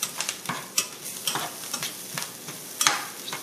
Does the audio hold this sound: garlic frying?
yes